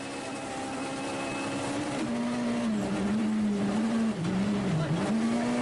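A Peugeot 207 rally car idles and revs at the start line of a European Rally Championship stage in Liepāja, a steady engine drone with rising and falling pitch, close and loud, with faint voices behind.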